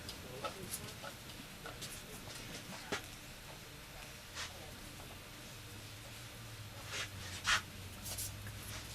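An eraser wipes a lecture board in a classroom, making faint, scratchy rubbing strokes in uneven bursts over a quiet room hum, with a few soft knocks.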